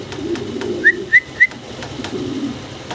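A pair of large Mundian fancy pigeons gives three short, bright calls in quick succession over a low, steady murmur of cooing.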